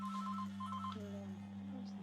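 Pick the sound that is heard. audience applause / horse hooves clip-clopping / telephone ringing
telephone ringing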